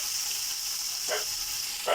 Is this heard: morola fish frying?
yes